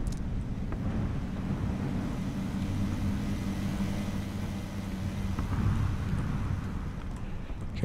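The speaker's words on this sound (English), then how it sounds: "someone just drove by, there's nothing to do about that" A vehicle drives by in the battle royale game PlayerUnknown's Battlegrounds, a steady low engine rumble that swells slightly and then recedes, moderately distant and continuous throughout.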